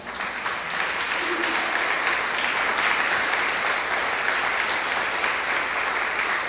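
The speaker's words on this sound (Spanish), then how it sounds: "Quisiera darle un aplauso a Dios." Congregation applauding during a Spanish-language Bible sermon: a dense, sustained wash of clapping from many people, steady and fairly loud throughout, with no talking over it.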